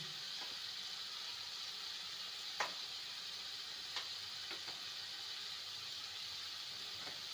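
Egg and cabbage fry with turmeric, coriander, cumin and chili powder in a pan, giving a steady soft sizzle and hiss with a few faint stirring clicks, fairly quiet throughout.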